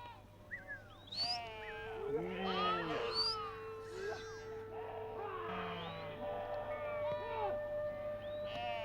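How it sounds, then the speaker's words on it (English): Sheep in a Gaddi herders' Himalayan flock bleat repeatedly, several animals calling over one another in wavering, overlapping cries at close to moderate distance, with a steady low hum beneath. "The herdsmen spend the entire day herding the sheep, letting them linger where sufficient fodder is available."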